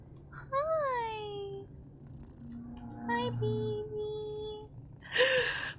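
A cat in the video game Broken Veil meows several times, with clear, close, rising and falling calls spread across the moment and a sharper burst near the end.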